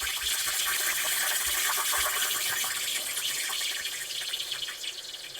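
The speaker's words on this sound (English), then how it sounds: "turn the steam dial towards the steam icon to descale the steam wand" A Breville Barista Express steam wand hisses steadily during descaling, a broad airy rush of steam that stays even for several seconds and eases slightly near the end.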